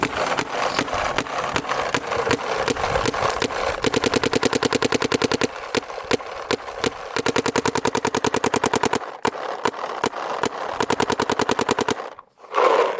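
A paintball marker fires rapid volleys through a carbon injected barrel outdoors in freezing Ohio cold, a long string of loud, sharp, evenly spaced pops in fast bursts with brief gaps and a closing burst.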